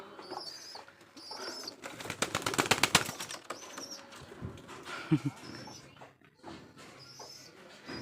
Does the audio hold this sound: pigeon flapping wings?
yes